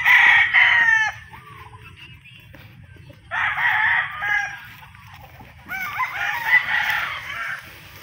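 Roosters crow on a game farm of fighting cocks and hens. Three loud, drawn-out cock-a-doodle-doo calls come at intervals, over a quiet, low rural background.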